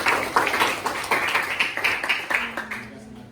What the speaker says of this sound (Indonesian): dan kita berikan aplaus untuk Ibu Atlet ini